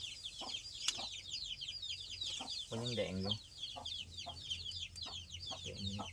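Junglefowl cluck in short repeated bursts, joined by chirping birds in the background, while a person says a few brief words in between.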